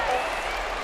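A home crowd roaring and applauding a victory in a College Hoops 2K26 basketball game between North Carolina and Duke, a steady dense wash of cheering heard throughout the brief moment under commentary.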